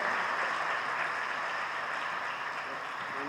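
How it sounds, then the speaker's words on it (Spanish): Audience applause for a guest at a Spanish-language talk, a dense, steady wash of clapping that holds evenly across the whole stretch with no voices breaking through. "Le damos un aplauso."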